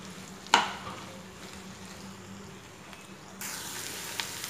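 Okra (bhindi) being dropped into hot oil and fried, a soft steady sizzle with a sharp splash or clatter near the start and the frying growing brighter and louder toward the end.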